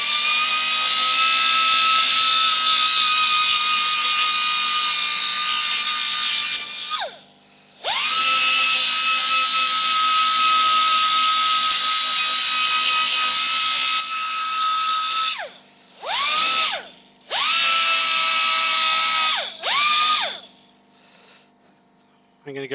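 A power sander whines loudly and steadily, cutting out briefly several times before starting again, with short bursts near the end.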